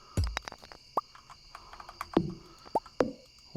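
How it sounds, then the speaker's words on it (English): A frog croaking in the farming video game Stardew Valley, short chirpy calls and clicks spaced irregularly over a faint steady background hum, fairly quiet and with no talking. "Get away, frog."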